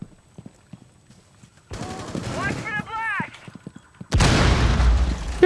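Gunfire in the tactical shooter game Rainbow Six Siege, a loud dense burst near the end after quieter stretches with a voice talking over the match.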